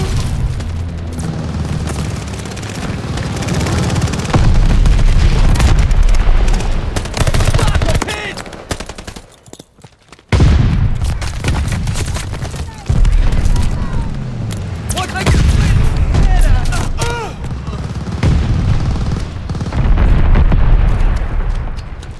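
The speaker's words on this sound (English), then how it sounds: "Friendly bombing run inbound." A friendly bombing run in Call of Duty: Vanguard, with loud, sustained rumbling explosions and bursts of gunfire rolling on almost continuously, dropping out briefly midway before resuming, with chatter from players mixed in.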